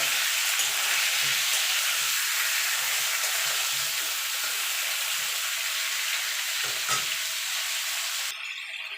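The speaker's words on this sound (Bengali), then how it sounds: "নুনটা দিয়ে সবজিটা একটু ভাজা ভাজা করে নেব।" Malabar spinach fries in a pan with salt, a loud, dense, continuous sizzle holding steady close up, with faint stirring scrapes beneath and one sharp tap near the end.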